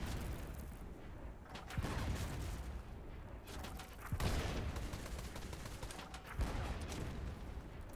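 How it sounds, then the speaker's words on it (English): Ship cannons fire in a naval battle in the game Blazing Sails, a run of distant, muffled booms and crackling volleys rolling over a steady noisy wash with no talking. "I'm lighting these guys up with cannons"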